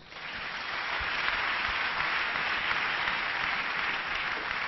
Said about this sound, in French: Acclamons Jésus.